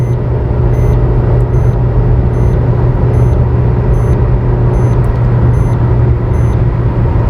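Car engine and road noise at over 120 km/h on an expressway between Rajasthan and Haryana, a steady loud broadband roar with a constant low drone throughout and no talk.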